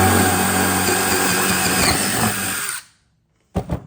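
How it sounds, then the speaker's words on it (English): A power drill bores a test hole through a piece of scrap wood, a loud steady whine that cuts out near the end, followed by a brief burst of sound. "we're doing a test hole to make sure that our bolt can pass through it"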